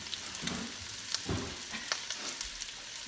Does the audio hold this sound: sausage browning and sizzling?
yes